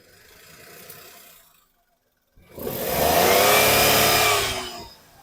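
The petrol engine of a 2014 Maruti WagonR VXI runs close and loud, a steady, even drone that starts abruptly after a short silence and holds for several seconds.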